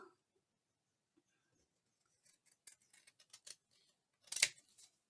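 Scissors cutting out a paper journal card, with a few quiet, sparse snips and a slightly louder cluster of crisp cuts near the end, heard close in an otherwise silent room.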